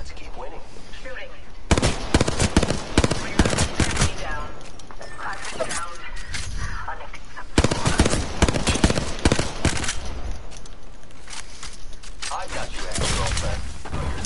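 Rapid bursts of gunfire rattle in a video game shooter match, loud dense volleys interleaved with action sounds, while players talk over the fighting.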